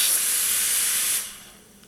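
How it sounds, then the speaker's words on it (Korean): Steam wand on an espresso machine purging with a loud, steady high hiss for about a second, then tapering off quickly into quiet as the valve closes. "시작 전에 수증기를 이렇게 빼주시고"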